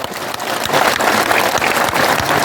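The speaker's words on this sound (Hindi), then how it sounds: "मैं चाहना कि तालियां भी जोरदार बजे।" Loud, dense applause from a crowd at a political rally, swelling after a softer start and holding strong to the end.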